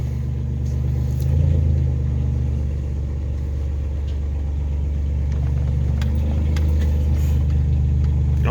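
A Dodge D150 pickup truck from the 1972-93 era rolls slowly in cold weather, its engine giving a steady, low, close rumble throughout with slight swells, with no talk over it.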